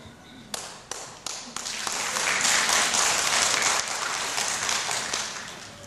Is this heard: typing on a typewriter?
no